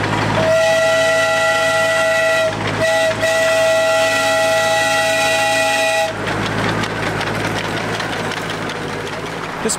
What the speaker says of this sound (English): it's a collection of trains, all kind of eclectic